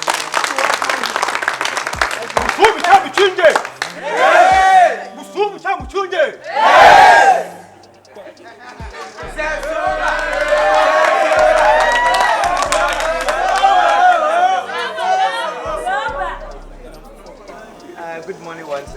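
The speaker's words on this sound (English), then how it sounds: "clap your hands for the headmaster" A crowd of students cheering, shouting and clapping for their headmaster at a school gathering, loud and sustained with bursts of yelling and a voice calling out over the din.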